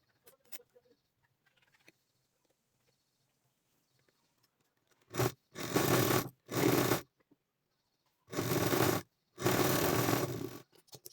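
A sewing machine stitches the neckline of a blouse in four quick whirring runs, grouped in two pairs with short pauses between, loud and close after a quiet stretch of faint handling noises.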